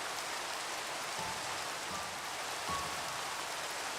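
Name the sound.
rain falling in a video game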